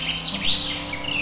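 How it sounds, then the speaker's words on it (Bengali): Several migratory birds from Siberia chirp and tweet in quick, overlapping bursts, a lively flock calling continuously with a steady low hum underneath. "সারাদিন কিচিরমিচির আওয়াজে পুরো জায়গাটা"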